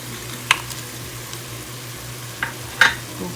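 Pistachios go into sweet vermicelli zarda sizzling in a pan, a low steady frying hiss broken by a few sharp clinks and scrapes of the spoon, with no talking.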